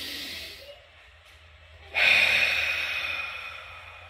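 A person taking a big, deep breath during a Child's Pose stretch: a quiet exhale fades out, then a loud, close, sustained breathing rush starts midway and holds steady to the end.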